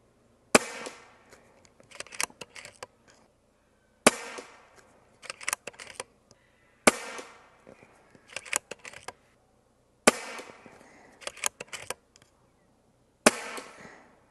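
Five sharp shots from a Stoeger XM1 Ranger .25 PCP air rifle fired at a 50-yard target, each a loud crisp crack followed by metallic clicks of cycling the action, evenly spaced with silent pauses between.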